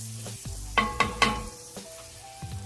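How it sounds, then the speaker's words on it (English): Vegetables sautéing with garlic in olive oil in a pan, giving a low steady sizzle, with a few sharp clanks of a utensil against the pan near the start. "We'll saute our veggies off."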